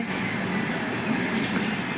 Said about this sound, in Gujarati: અને આ ટ્રેન જઈ રહી છે ઇન્દોર મુંબઈ સેન્ટ્રલ.